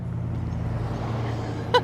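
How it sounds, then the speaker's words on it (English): A car passes outside with a steady low rumble of road noise throughout. A brief sharp sound comes at the very end. "And there's a car driving by."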